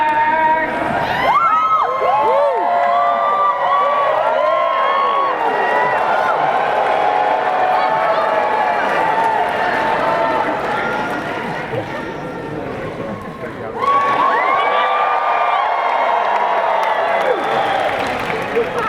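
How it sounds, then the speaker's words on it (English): Convention crowd at a comic con photo op cheers and whoops loudly, sustained and close, with shrill children's shouts mixed in, a brief dip before a second swell of cheering. "You guys need to stand up and cheer Excelsior."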